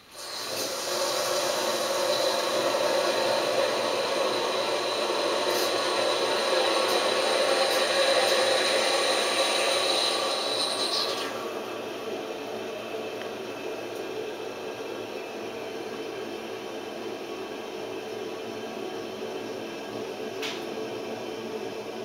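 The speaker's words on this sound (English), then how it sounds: "the pressure tank, you will hear it flow with water to basically recharge" Steady rushing hiss of water refilling an American Standard Cadet pressure-assisted toilet's pressure tank, loud for about eleven seconds, then dropping to a quieter continuous flow.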